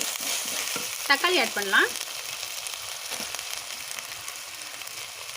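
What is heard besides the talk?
ginger garlic paste sautéing in a pan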